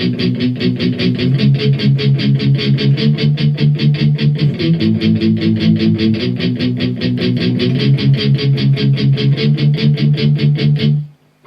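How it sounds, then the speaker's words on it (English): Steady chugging palm-muted power chords on a distorted electric guitar play the verse of a song. Rapid, even eighth-note strokes shift between a few chord positions and hold a driving rhythm throughout. "some basic power chords, and it's all going to be palm muted"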